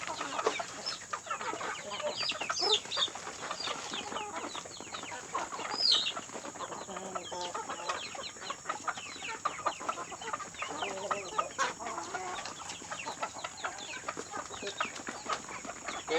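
Free-range village chickens kept as breeding stock on a traditional farm, clucking steadily throughout with overlapping calls from several birds nearby, no talking.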